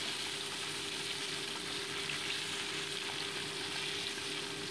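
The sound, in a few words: bata fish being turned and fried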